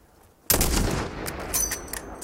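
A single loud sniper rifle shot cracks suddenly in the Call of Duty Modern Warfare campaign, followed by a long booming echo and rumbling tail that fades slowly.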